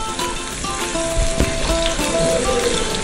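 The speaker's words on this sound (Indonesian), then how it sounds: "minyaknya udah panas, kita langsung masukkan bawang merah, bawang putih, kita tumis dulu sampai harum" Shallots and garlic sautéing in hot oil for an Indonesian green-chili tuna dish give off a steady, dense sizzle with crackling pops and occasional stirring scrapes, close and fairly loud throughout.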